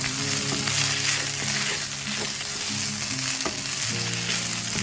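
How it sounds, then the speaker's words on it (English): Fried rice is stirred and toasted in a hot pan, giving a loud, constant sizzle broken by repeated scraping strokes of a spatula and a low steady hum underneath. "So this is where you do the stirring for some time, like quite some time, because you need to heat that up."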